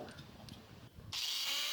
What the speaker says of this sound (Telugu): డ్రిల్లింగ్ మిషన్ సహాయంతో మీరు లెగ్ ఎక్కడైతే కట్ అయిందో